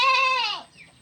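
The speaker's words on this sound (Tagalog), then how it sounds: "Ngayon naman, isusunod ko na tong aking mga kambing." A single loud, close goat bleat on a small farm, a wavering nasal cry that fades after about half a second into near silence.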